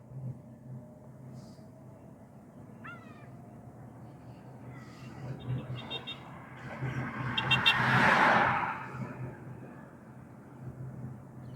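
A car being driven and turned during a driving lesson gives a low, steady cabin hum, with a broad rushing swell near the end before it settles again.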